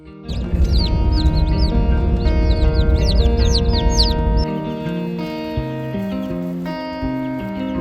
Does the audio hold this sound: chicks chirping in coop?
yes